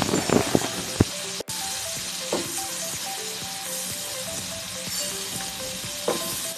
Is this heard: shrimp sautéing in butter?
yes